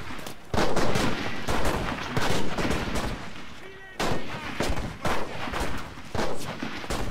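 Rapid bursts of gunfire in the video game Enlisted crackle repeatedly, loud and dense, with brief pauses between volleys and some voices mixed underneath.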